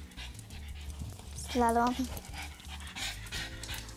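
A dog pants steadily indoors in a studio, quick soft breaths running throughout at moderate level, with a short whine-like tone partway through and a person briefly speaking.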